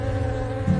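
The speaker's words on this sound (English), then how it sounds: "When flying, the bee beats its wings rapidly and gives off a buzzing sound." A bee buzzes with rapidly beating wings, a steady, close and fairly loud drone with a slight swell near the end.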